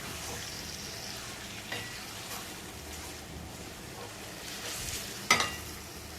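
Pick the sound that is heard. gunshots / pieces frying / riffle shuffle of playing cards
pieces frying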